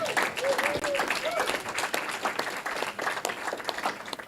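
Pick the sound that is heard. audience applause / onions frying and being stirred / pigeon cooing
audience applause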